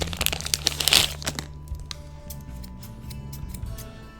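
Cheap scissors snip and crunch through crinkly plastic packaging up close, with a burst of rapid cuts and rustling that peaks early, then trails into quieter handling noises.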